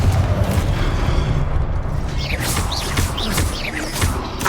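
A Confringo blasting spell goes off in Hogwarts Legacy, a rumbling boom with crashing, crackling debris and swirling magical whooshes layered over dense low game noise, no voices heard.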